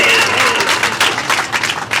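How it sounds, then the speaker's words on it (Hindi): A loud burst of crowd applause, steady clapping from many hands filling the whole moment. "बजाइए तालियां यार"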